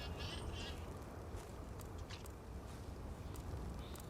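Birds call in the video game Starfield, quacking, duck-like cries sounding over a dense, rumbling ambient background, fairly faint.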